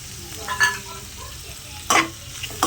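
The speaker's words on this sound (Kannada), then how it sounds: "ಸೋಂಪು ಚಕ್ಕೆ ಲವಂಗ ಏಲಕ್ಕಿ ಇದನ್ನು ಕೂಡ ಇದಕ್ಕೆ ಹಾಕಿ ಫ್ರೈ ಮಾಡ್ಕೊಳ್ಳೋಣ" Fennel, cinnamon, cloves and cardamom frying with onions for a green masala chicken gravy, a low steady sizzle broken by two brief bursts of spatula scraping and stirring, close up with no speech.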